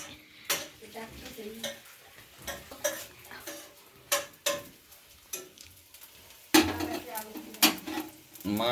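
Bhaji, a vegetable dish, cooking in a pan at home, with repeated spatula scrapes and clanks against the metal over a faint sizzle, close and irregular.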